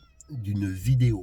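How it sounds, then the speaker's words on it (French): A cat's meow cuts in briefly under a person's speech, close by and fairly loud. "Ah, mais t'as fini de miauler"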